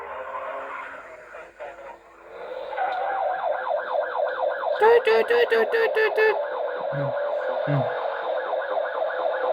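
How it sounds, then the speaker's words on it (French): Police car sirens wail in a fast, rising and falling warble, loud and close, with a brief harsher burst partway through and a short murmur from a voice. "Il y a des voitures des flics"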